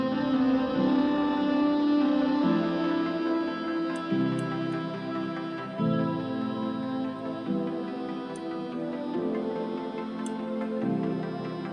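Layered synth chords in an electronic style, swelling from low to higher volume across sustained changes, rich and bright with sparse high ticks, alone with no voices.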